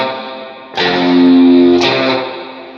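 Electric lead guitar through distortion and chorus effects plays a short riff from a song, two sustained, bright notes ringing one after the other, close and fairly loud with no voices.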